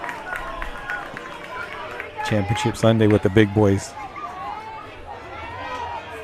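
A crowd of spectators at a 9U youth baseball championship game keeps up a loud background of cheering and chatter, while a close voice speaks over it midway through.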